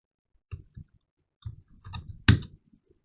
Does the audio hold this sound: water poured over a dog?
no